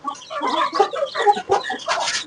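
Aseel chickens on a farm cluck loudly and close in a quick, continuous run of short calls.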